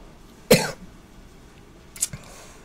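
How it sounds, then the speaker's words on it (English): A single sharp cough rings out, followed by a quieter, brief throat-clearing sound a moment later, with no one talking. "Excuse my coughing"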